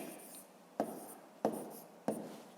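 A pen writes numbers on paper while a math exercise is solved, making three short scratchy strokes, each starting with a tap and fading out, close and quiet with no talk.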